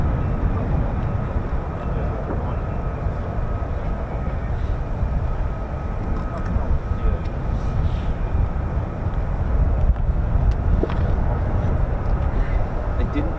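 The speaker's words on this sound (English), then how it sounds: "We got aircraft coming in actually." US Air Force fighter jet arriving at RAF Lakenheath, a steady broad roaring rumble that holds at fairly even loudness throughout, heard from a distance with no talk.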